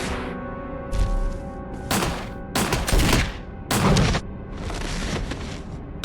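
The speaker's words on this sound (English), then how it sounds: "On the helipad, we use some signal rockets to get Brad's attention" Signal rockets fired on a helipad in the Resident Evil Remake video game, heard as several loud bursts and booms in irregular sequence over a steady background tone.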